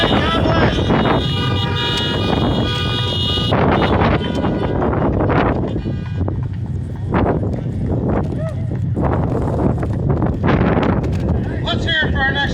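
Many car horns honk and toot in overlapping bursts at an outdoor Trump 2020 rally in Helena, Montana, some long and sustained, over crowd noise and wind buffeting on the microphone.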